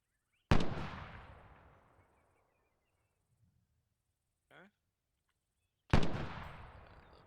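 Rifle gunshots at a marksmanship range: two sharp, loud cracks about five seconds apart, each trailing off into a long fading echo, with a brief faint sound between them.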